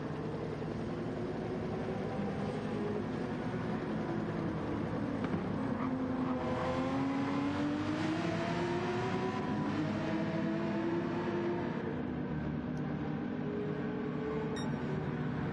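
Race cars in a sim racing game at Laguna Seca, engines droning steadily through the final sector, with pitch sweeps as a car passes mid-clip and then fades away.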